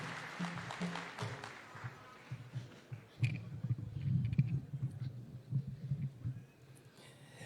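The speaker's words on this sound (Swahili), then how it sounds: "Tumpigie makofi akija." Scattered clapping in a church congregation, soft and somewhat distant, building into a denser patter in the middle before thinning into a few loose claps.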